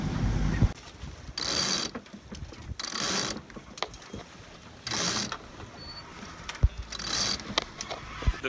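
A sailboat races along at 13 knots on open sea, with recurring bursts of rushing water and hiss rising and falling every second or two over a steady background of creaks and small mechanical clicks.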